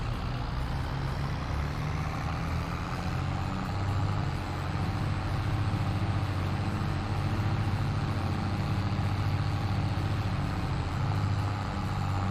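A Massey Ferguson tractor with a front loader idles in Farming Simulator 22, giving a steady, even engine drone with a low throbbing hum that holds unchanged throughout, with no talking.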